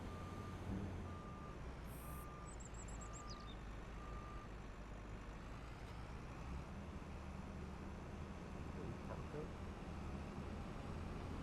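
A vehicle's reversing alarm beeps in a short regular series while backing up in Farming Simulator 25, faint over a steady low engine drone.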